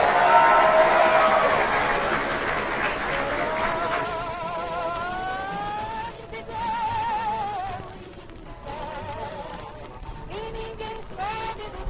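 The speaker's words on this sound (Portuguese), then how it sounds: "Vamos todos aplaudir" A studio audience at a 1951 radio broadcast claps in a dense, steady burst of applause for a singer, which fades after a few seconds as her sung melody rises over it.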